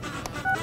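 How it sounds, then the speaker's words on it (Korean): Telephone keypad tones sound as a person dials a call: a few short beeps close to the phone, with no talking over them. "네 전화해야 돼."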